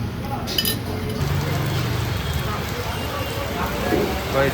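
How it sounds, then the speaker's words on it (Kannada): A steady, dense hiss of heavy rain pours down at a roadside hotel, with a few faint clinks and voices talking underneath. "ಫುಲ್ ಜೋರು ಮಳೆ ಬರ್ತಾಯಿದೆ"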